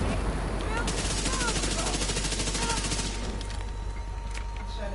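Rapid automatic gunfire in The Division 2 video game, dense overlapping bursts of shots sustained loud throughout, with a helicopter-like drone and someone talking over the firefight.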